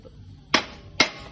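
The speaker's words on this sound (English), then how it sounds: "Get yourself a rubber mallet." A rubber mallet taps an aluminium door extrusion back into place, giving two sharp, close knocks about half a second apart over a quiet background.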